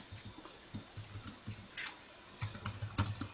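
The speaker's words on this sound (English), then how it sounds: "So let me simply type here, print" Code typed on a computer keyboard: quick, uneven clusters of soft key clicks, close and moderately quiet, heard without any talk.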